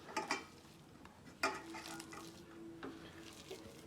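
Flattened rice and onions being mixed by hand or spoon for pakoda batter in a bowl, with a few soft scraping and clinking stirs and brief taps, fairly quiet with no talking.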